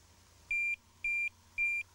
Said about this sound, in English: turn the buzzer on to plus or minus, it doesn't matter. Get the normal bleeps.